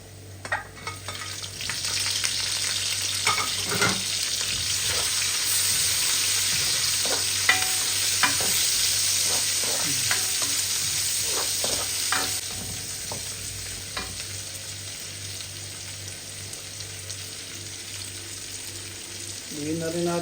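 Chopped onion is dropped into a hot pan for a Filipino string bean and squash stir-fry, a loud, steady sizzle with intermittent scraping of a spatula stirring, close by and without speech.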